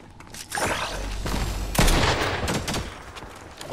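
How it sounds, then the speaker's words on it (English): A shotgun blast in Fortnite, one loud booming shot amid a dense burst of rapid gunfire and game effects, close and heavy, with no talk. "Oh, that is that shotgun."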